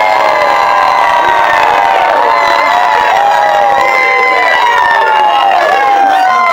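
Crowd at a rap battle cheering and making noise, a loud, dense roar of shouts and whoops that holds steady the whole time, with voices rising and falling in pitch.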